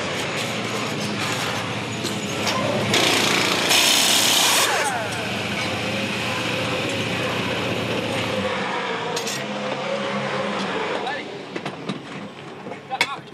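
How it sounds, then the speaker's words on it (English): A slide hammer knocks a bent front mudguard bracket on a 2007 V8 Supercar back into shape during a pit stop, metallic clanks and rattles under loud race-track roar and a commentator's voice. "Just using the slide hammer here to bend the bracket back."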